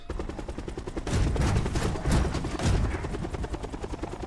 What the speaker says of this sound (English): what happens when you try to land a helicopter in the back of a cargo truck